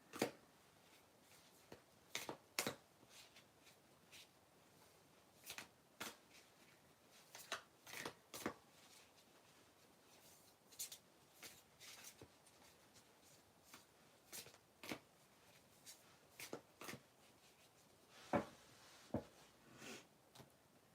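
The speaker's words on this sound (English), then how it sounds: "I'm going to start shuffling the cards" Tarot cards are shuffled during a live reading, giving soft, quiet riffling snaps and taps in irregular bursts with pauses between them over about twenty seconds.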